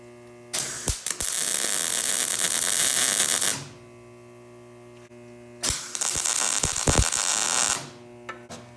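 MIG welder set to 5.5 wire speed tacking steel for a suitcase weight bracket: two loud, sustained crackling, buzzing arc bursts of a few seconds each, separated by a quiet pause over electrical hum, no talking.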